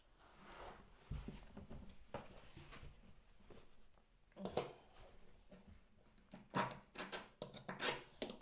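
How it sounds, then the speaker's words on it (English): Old tile caulk is scraped off, heard as irregular close scratches and rasping strokes that are quiet at first and grow into a quicker run of sharp scrapes near the end, with no talking. "It has a different feel as far as the scraping of it goes."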